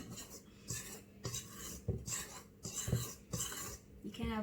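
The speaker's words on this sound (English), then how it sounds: "get a spoon and just mix all of that together, incorporating it all really well" A spoon scrapes and beats icing sugar and butter together in a bowl for melting moments, giving close, rhythmic strokes roughly every half second, each a gritty rasp with light clinks against the bowl.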